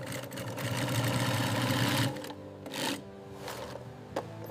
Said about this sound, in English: Strong precision stitching begins forming the backpack's structure.